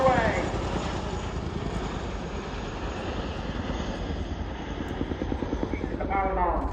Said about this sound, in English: you'll see how the tandem ropes of the Chinook are used to bring the aircraft to a complete stop